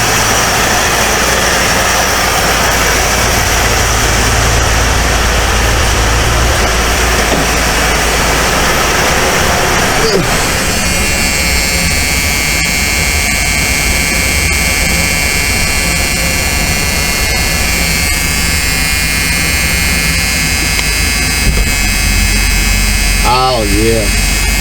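1978 Ford Mustang II engine running and being put in gear: a loud, steady idling drone and hum throughout, with a shift in tone around the middle as it engages. A voice speaks briefly near the end.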